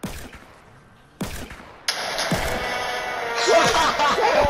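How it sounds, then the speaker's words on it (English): Rapid bursts of gunfire from Fortnite, sharp cracks and volleys growing denser and louder, with some chatter mixed in. "and then a bunch of gunshots"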